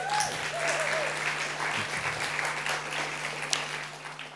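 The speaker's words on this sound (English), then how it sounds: "please give yourselves a round of applause for all the work you do" Conference audience at a talk on veganism and animal rights applauds steadily for several seconds, a dense even wash of clapping at moderate distance with no speech over it.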